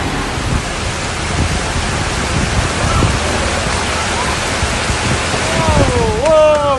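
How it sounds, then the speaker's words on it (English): Floodwater rushes through Jeddah after torrential rain, a dense, loud, continuous roar of water with a brief voice-like tone near the end. "Monster flash flood in Saudi Arabia 2023."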